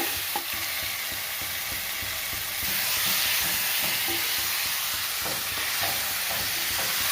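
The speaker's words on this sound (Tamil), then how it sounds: "அடுத்து நம்ம சிக்கனை போட்டு கிண்ட வேண்டியதுதான்." Chicken stirred and frying in a pan with green chillies, onion, tomato and garlic, a steady close sizzle with scraping stir strokes that grows louder partway through.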